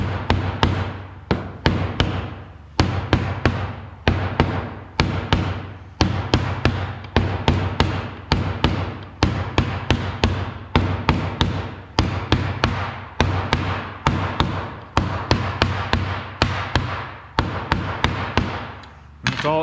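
Repeated heavy thudding blows from a dead blow hammer tapping a part in during a 12-valve Cummins engine rebuild, a steady series of solid knocks at close range, dozens of strikes with short pauses, no talking.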